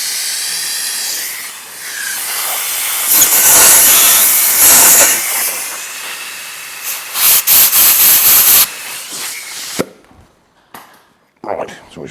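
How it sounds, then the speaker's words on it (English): Air blasts blow fuel out of a carburetor on a Reliant Super Van, making loud hissing, spluttering bursts that rise and fall in several pulses before ending with a short, sharp spurt. "Blow the gas out of this carburetor."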